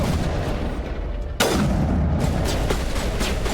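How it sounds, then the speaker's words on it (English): A big Gatling turret in Mass Effect fires, a sharp heavy blast followed by a rolling rumble and scattered further shots against steady background noise. "this is a big Gatling turret kind of thing"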